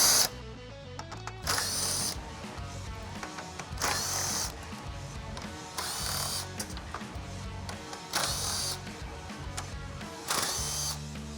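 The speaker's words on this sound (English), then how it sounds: "take all these screws out" A power driver backs screws out of a 2014-2018 Chevrolet Silverado with a 6.2L engine during a Whipple supercharger install, with short whirring bursts repeating at a steady pace, close and fairly loud.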